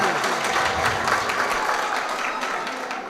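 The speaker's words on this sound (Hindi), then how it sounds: "भाई जोरदार तालियां" An audience at a ghazal performance applauds loudly, with dense continuous clapping close up that tapers slightly toward the end.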